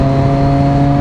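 Triumph Daytona 675R motorcycle engine while being ridden on a track, a steady, loud, close droning hum held at an even pitch throughout.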